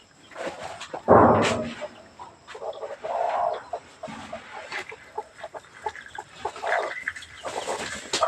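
A domestic chicken clucks in a run of short, uneven calls at close range, with one louder squawk near the start and quieter clucking throughout.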